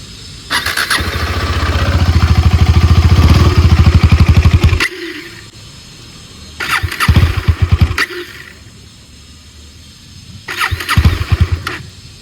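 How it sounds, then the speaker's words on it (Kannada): A 2022 KTM Adventure 250 motorcycle starts up close by and revs in three bursts, a long rising blip followed by two shorter throttle pulls, with the idle dropping back between them. "ಸೊ ಇದ್ರ ಎಕ್ಸಾಸ್ಟ್ ನೋಟ್ ಕೇಳೋಣ"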